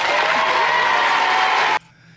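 A studio audience applauds in a steady, loud wash of clapping that cuts off abruptly near the end, leaving only faint room tone.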